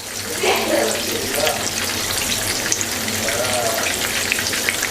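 Small prawn fritters bubbling in hot oil as they are gently stirred, a steady close frying hiss with soft scraping movements and occasional faint pops, no talking.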